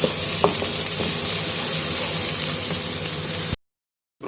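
Finely chopped onions and tomatoes frying in a pan, giving a steady, close sizzling hiss that runs unbroken and then cuts off abruptly into silence.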